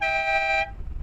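A Bentley car horn gives one steady, loud harmonic honk lasting about half a second, then cuts off, leaving low rumbling background noise.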